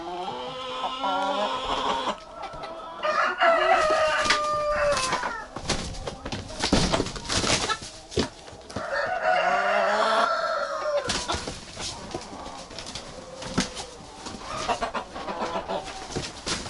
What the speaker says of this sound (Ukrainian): О, вже півники б'ються, дивіться.